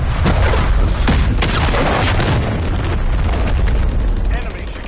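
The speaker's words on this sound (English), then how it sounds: "Friendly cruise missile deployed." Deep booming blasts from a cruise missile strike in Modern Warfare III roll through a loud battle, layered with rapid gunfire crackle and game voice callouts.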